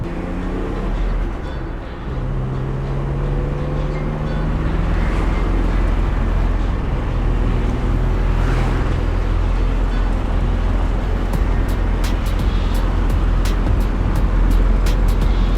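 A 1000 hp car with a 2JZ engine driving, its steady low engine drone and road roar continuous and fairly loud throughout, with no talk.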